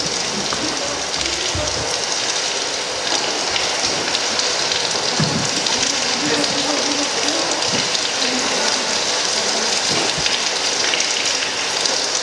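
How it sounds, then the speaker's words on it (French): Heavy rain and hail hammering down as a loud, unbroken hiss, with low rumbles of thunder rolling underneath throughout. "Puis ce fut le tonnerre et la grêle,"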